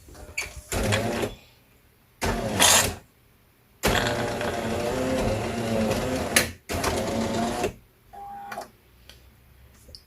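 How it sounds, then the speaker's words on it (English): Jura Impressa F8 coffee machine rinsing its coffee system in several loud bursts of whirring and pumping separated by quiet pauses, ending with a brief beep, close by. "Machine is rinsing."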